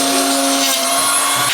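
A cheap wood router runs at full speed, a loud, steady high-pitched whine with a constant hum underneath, close up and continuous with no talk.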